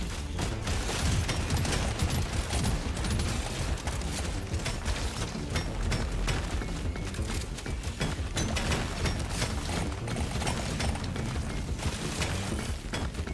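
Gunfire from a shooting elite enemy in Deep Rock Galactic Survivor: dense, continuous bursts of rapid shots layered with mechanical clatter and impacts, a steady loud barrage with no pauses and no talking.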